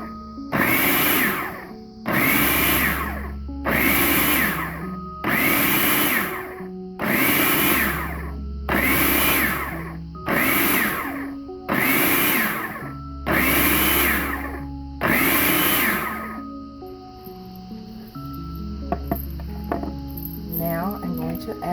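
A blender pulses a dry mix of flour, sugar, salt and baking powder for KFC-style biscuits. Nine loud, even whirring bursts of about a second each are separated by short gaps, then the motor falls silent.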